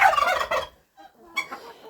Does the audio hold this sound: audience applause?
no